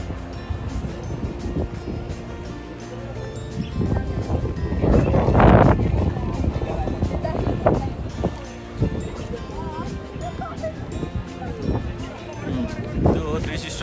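Strong wind buffets the open clifftop at Three Sisters Lookout in the Blue Mountains, a rough broadband roar that swells loudest midway, with voices faintly present beneath it.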